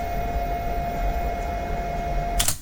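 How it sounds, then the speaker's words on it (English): Steady fan noise from a 3D printer running in a room, an even broadband whoosh with a faint constant tonal hum, close and unchanging, ending with a brief click. "which is basically sounds like the fan on my 3D printer running."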